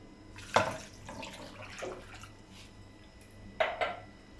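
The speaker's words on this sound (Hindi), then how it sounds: "पानी डालेंगे 1 गिलास" A glass of water splashes and pours into a cooking pot of masala in short bursts, a couple of sloshing gushes close by with quiet gaps between, no voices.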